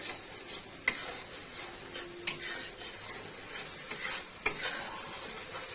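Onion paste fries in a wok with a soft, steady sizzle, and a spatula stirs and scrapes it with a few sharp clinks against the metal.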